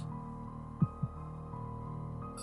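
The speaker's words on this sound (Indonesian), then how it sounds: "hanya suara AC dan detak jantungnya sendiri yang terdengar" A heartbeat sound effect in a narrated suspense story, with two soft low thuds close together over a steady air-conditioner-like hum, then a faint later pulse.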